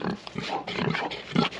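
A pig on a homestead grunts steadily and close by, a low, rough, snuffling run of grunts and snorts with no pauses.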